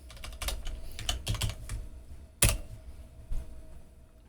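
Keystrokes on a computer keyboard as the Arch Linux install command is typed, a quick irregular burst of close clicks with one sharper, louder key strike near the middle and a few lighter taps after.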